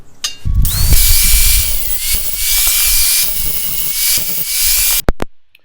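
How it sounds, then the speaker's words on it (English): Handheld grinder cleaning up drilled holes in a metal TV mount, a loud close high-pitched whine that spins up, holds steady with slight pitch shifts as it bites the metal, then cuts off abruptly. "You don't have to have a grinder, but it's nice to have one."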